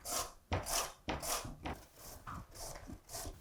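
A carrot julienned on a fine julienne slicer, giving about seven quick, rhythmic scraping strokes, close and fairly quiet, with no talking.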